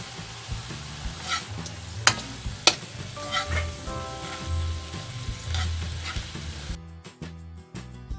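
Shrimp frying in butter and garlic, a continuous close sizzle with occasional sharp pops and crackles, ending in a burst of clattering stirring.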